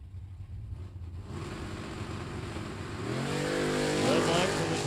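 A 1969 Chevrolet Camaro drag car at the starting line of a drag strip, engine rumbling loud and close, then revving higher and louder toward the end with rising pitch.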